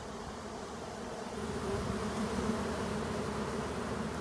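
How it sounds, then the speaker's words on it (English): A swarm of honey bees drones loudly and continuously up close at a beehive in Ottawa, Ontario, the dense buzzing growing slightly stronger partway through, with no voices. "they're all gonna walk right into this beehive"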